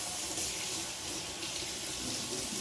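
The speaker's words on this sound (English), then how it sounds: "So, I'm just gonna rinse my hand off." Tap water runs steadily into a kitchen sink as a hand is rinsed beneath it, a loud, continuous close-up splashing rush with no pauses.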